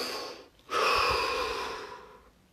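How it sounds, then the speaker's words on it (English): Slow deep breathing during guided relaxation: after a brief pause, one long, steady inhale or exhale fills most of the moment, close and breathy, then fades out, with no talking. "take 3 deep breaths."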